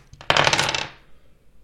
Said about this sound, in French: c'est à moi maintenant de lancer le dé